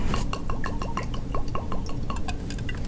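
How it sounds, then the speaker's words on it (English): Eagle Rare 10 year single barrel bourbon pours from a 1.75L bottle into a glass, a close glugging stream with rhythmic gurgles and rising pitch as the glass fills, alone without talk. "there's a couple ounces in the Cornhusker bottle shop glass for Tony."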